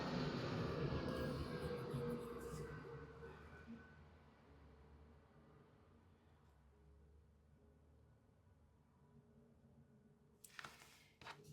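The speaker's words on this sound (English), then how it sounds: "Airplane passing." An airplane passing overhead as a broad, low rumble that is strongest at first and slowly fades over several seconds, with a few short knocks near the end and no speech.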